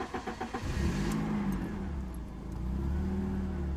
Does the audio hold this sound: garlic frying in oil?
no